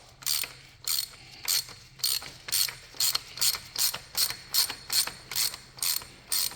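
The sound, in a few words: unscrewing oil filter cap on Ford Bronco 2.7L engine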